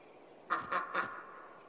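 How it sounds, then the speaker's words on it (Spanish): A duck in the game Lost Ember gives three quick nasal quacks in a row, close and fairly soft over a quiet background. "El puto pato."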